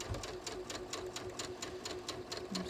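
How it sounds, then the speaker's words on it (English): A sewing machine back-tacks and stitches at 3.0 stitch length to repair a torn neckline on a ready-to-wear top, a steady close whirring hum with a quick regular needle beat, faint and alone. "I'm just going to sew it right back together here."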